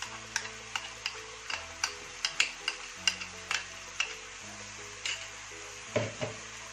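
A spoon stirs ginger, garlic and chili paste into boiling pork in a pot, giving a regular series of soft scraping knocks over a quiet bubbling simmer.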